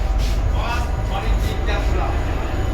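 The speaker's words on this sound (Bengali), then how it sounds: "নপাড়া থেকে ছেড়ে দিল মেট্রো" A Kolkata Metro train departing Noapara station rumbles loudly close by, a steady low roar of wheels and motor with faint higher whines riding on top.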